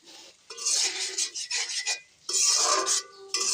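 A spoon scrapes and stirs spiced masala frying in oil in a cooking pot for chicken biryani, making continuous close rasping strokes in two long bursts with no talking.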